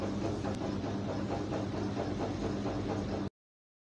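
A sewing machine stitches a sherwani sleeve from the inside with a continuous, fast mechanical rattle and whir, steady and close for about three seconds before it stops abruptly.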